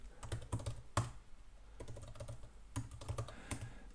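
Keys clack on a MacBook Pro M1 keyboard in quiet, close bursts of rapid typing, separated by short pauses and a few firmer single taps.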